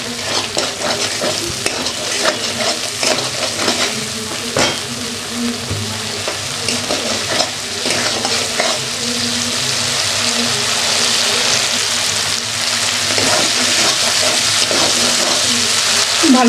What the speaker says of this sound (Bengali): ভালোভাবে কষিয়ে নিলাম।